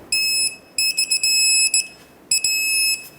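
An electronic torque wrench beeps as a 22 mm mounting nut on a Ford E-350 drag link reaches 66 foot-pounds: three close, loud, high-pitched beep bursts separated by short gaps.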